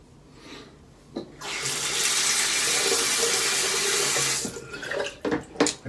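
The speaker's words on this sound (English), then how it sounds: "One more final rinse with cold water." Cold tap water runs hard into a sink for a final rinse during soap making, a loud, steady gushing stream lasting a few seconds before shutting off, followed by scattered splashes and clatter.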